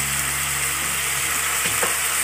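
Chicken with spices and green chili sauce cooks in a pan, giving a loud, steady frying sizzle close by with a faint scrape of stirring partway through.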